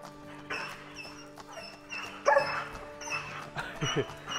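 Three dogs out for a walk bark, yip and whimper in bursts, close and fairly loud, with a few louder yelps toward the middle.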